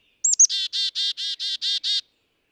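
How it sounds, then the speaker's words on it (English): An eastern bluebird sings close and clear: a quick opening whistle followed by a rapid even series of about seven warbled notes, alone against silence. "Like this sweet singing eastern bluebird."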